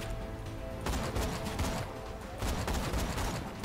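Sniper rifle fire from the video game Borderlands 2: sharp, loud gunshot bursts come in repeated bangs over a dense layer of game noise, with no talking.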